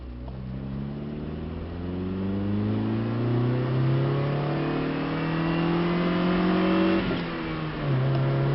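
A 1990s Saturn SC2 coupe engine revs up steadily through rising pitch, drops briefly, then picks up again, fairly close and clear with no voices.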